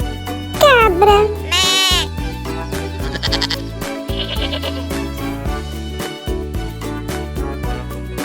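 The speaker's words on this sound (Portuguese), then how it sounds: "Cabra." A farm goat bleats loudly and wavers up close, with a second quavering bleat following soon after, over a bouncy children's music backing that keeps playing throughout.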